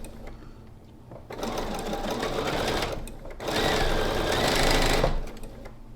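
A sewing machine chain-pieces quilt blocks in two sustained runs of rapid, even stitching, each lasting nearly two seconds, with a brief pause between them and quiet before and after, heard close up.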